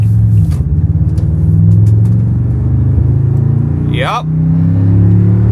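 Supercharged second-generation Toyota Tundra TRD Pro truck accelerating in tow haul mode, a loud steady engine rumble holding its gear with a brief whine near the end, under a short spoken word.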